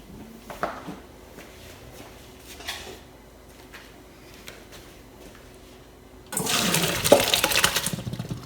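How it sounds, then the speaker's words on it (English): Water from cooked Kerala matta rice pours and splashes loudly through a metal colander for a couple of seconds, after quieter kitchen clatter and faint rustling. "Now we will strain the rice out of this water."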